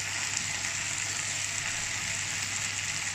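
Onions frying in oil in a pan flavoured with banana leaves give a steady, moderately loud hiss and crackle throughout, with no voices.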